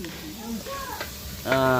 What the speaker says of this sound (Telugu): తర్వాత ఎర్రగడ్డ, టమాటాలు, ఇంకా పచ్చిమిర్చి మొత్తం అయితే మమ్మీ తిప్పేస్తూ ఉంది.